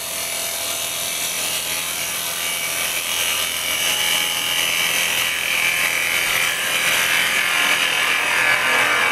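A small wooden bowl spins on a lathe while a negative rake carbide cutter takes a push cut, giving a steady, loud, close scraping whir with constant high hiss for the whole stretch, no voices.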